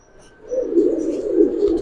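A large pigeon coos at a farm loft in a soft, rolling, throaty murmur that swells after a quiet start and continues steadily at close range.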